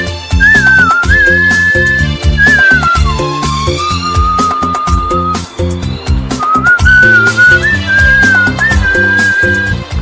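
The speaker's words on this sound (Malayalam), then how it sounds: "അനിലിന്റെ പാത പിന്തുടർന്ന് മകൻ ക്രിസ്റ്റിയും ചൂളമടിയിൽ കഴിവ് തെളിയിച്ചിരിക്കുകയാണ്." A whistled melody rises and glides in sustained tones over a steady instrumental backing, continuing across the whole stretch as a skilled solo whistling performance.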